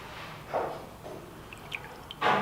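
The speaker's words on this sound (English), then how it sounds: "this bottom one started leaking just a second ago, finally started draining" Brake fluid drips from a Miata brake master cylinder during bench bleeding, a few separate close liquid drips and small splashes spaced irregularly over a quiet background.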